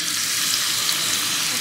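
Onions frying in hot oil for beresta, cooked outdoors for ilish polau, give a steady, close, dense sizzle that crackles without a break and holds an even level throughout.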